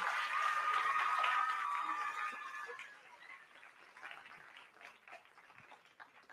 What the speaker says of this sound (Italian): fatele un grande appla- applauso